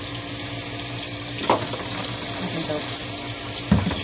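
Hot water running from a kitchen tap into a sink, a steady close rushing stream with brief splashes and a short spoken word.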